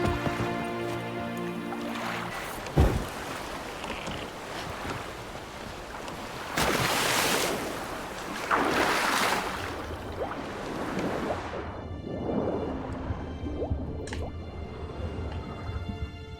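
Boat sailing across open water in The Witcher 3: Wild Hunt, with soft lapping waves, splashes and wind gusts swelling and fading over a faint musical backdrop.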